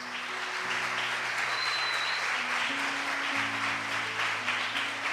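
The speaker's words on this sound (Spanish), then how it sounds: "Vamos a darle un aplauso, Cristian" A church congregation applauding in a steady, sustained wash of clapping, with a held musical tone running underneath throughout.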